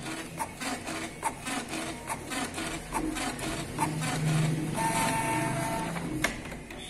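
A Canon Pixma G2000 inkjet printer runs nearby, a steady mechanical hum broken by regular clicking and clunking of the carriage and rollers, with a higher whirring stretch partway through and no talking.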